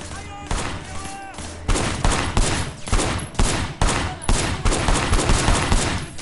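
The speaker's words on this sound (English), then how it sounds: "Shooting at the guys over there." Bursts of gunfire in the video game Sleeping Dogs, loud, repeated shots and rapid volleys running through the scene, with game music and faint voices underneath.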